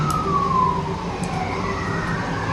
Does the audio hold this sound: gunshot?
no